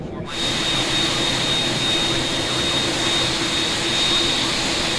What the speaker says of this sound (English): we will start engine 2 and 4 together